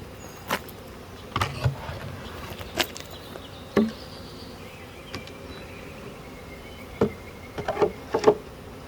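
Honeybees from a swarm crowd onto a bucket outdoors, giving a faint low buzzing bed broken by scattered sharp close passes and knocks at irregular intervals.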